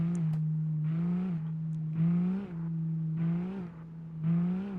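A drift car's engine in the CarX driving game revs over and over in a steady rhythm, each rise in pitch holding briefly and then falling back, with no talking.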